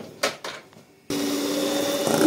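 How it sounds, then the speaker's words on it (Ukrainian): Electric mixer whipping cream for a cake starts abruptly after a few faint knocks, then whirs steadily and loudly to the end with a slight rise at the close. "І збиваємо крем."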